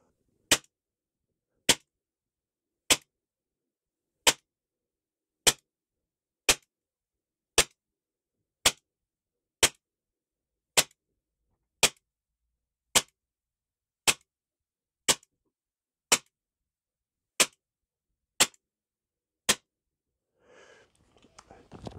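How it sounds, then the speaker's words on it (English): A Tanfoglio airsoft race gun fires 18 BB shots, sharp evenly spaced cracks about one per second, close and isolated against silence, followed by faint handling noise. "18 shots fired, the slide is locked back."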